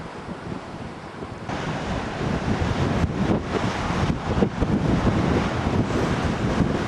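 Strong, gusty wind buffets the microphone at Eagle Gorge, a steady broadband roar that swells louder after the first second and a half and keeps surging, with no talk.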